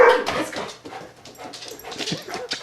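A dog whimpers and whines softly near a refrigerator, making a string of uneven, faint cries mixed with panting and small yips, close to the listener and without speech.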